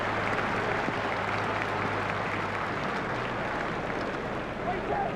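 Steady crowd applause fills a cricket ground in EA Cricket 2002 on PlayStation. It is a dense, continuous wash of clapping at even loudness that carries through the whole stretch, with a faint low tone underneath.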